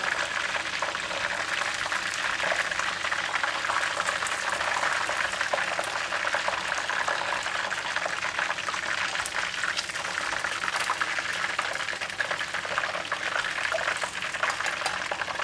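Fried chicken sizzles in hot oil, a dense, steady hiss and crackle of bubbling grease that continues evenly throughout with no talking.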